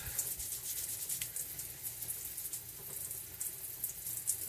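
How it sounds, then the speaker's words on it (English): Tap water rinses rust-cleaned glass marbles, a steady close hiss of running water at a sink, continuous throughout with no talking. "And I'll rinse it real quick."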